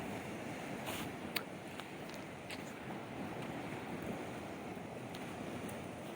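Steady ocean surf washing onto a beach that borders a forest, a continuous soft broadband wash with slight wind on the microphone and no talking.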